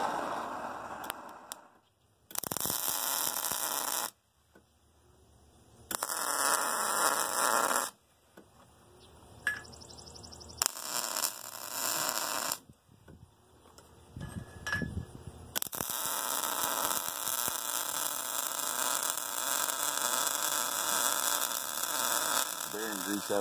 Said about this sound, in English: I'm going to spend a little while preheating this